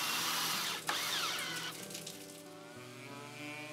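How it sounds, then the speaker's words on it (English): A power drill bores pilot holes in southern pine bench braces, whirring at high speed, then winding down to a lower hum, close and fairly quiet. "Then drill pilot holes in the braces."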